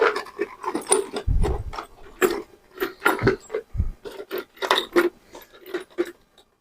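Metal bolts and nuts being rummaged through in a container, giving a run of close, irregular clinks, scrapes and rattles with a few heavier low thumps.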